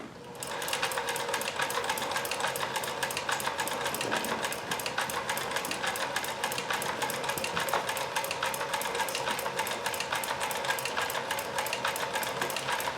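Kenmore 158.1040 sewing machine fitted with a Singer zigzag attachment set to maximum stitch width, running steadily at close range with a fast, even mechanical clatter of stitching throughout.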